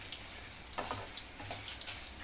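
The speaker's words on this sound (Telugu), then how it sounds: "నేను సిమ్లోనే పెట్టుకొని వేయించుకుంటున్నానండి" Chana dal and peanuts dry-roasting in a pan on a low flame: faint, scattered light ticks and soft crackles patter irregularly against a quiet background.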